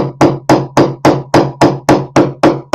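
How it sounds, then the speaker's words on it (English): A tracing hammer flattening metal on a bead piece, struck in a steady series of about eleven sharp, loud, ringing blows at an even rhythm, close up with no talk. "So I'm going to come in with my tracing hammer. I'll flatten right there."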